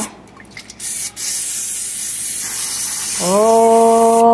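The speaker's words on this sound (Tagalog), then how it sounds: "Olive spray oil ang gamito nato kay walay fat siya. Pero isprihan nato." An olive oil spray can hisses steadily into a cooking pan for chicken adobo for about three seconds, close and loud. A bright, rising tonal whine follows.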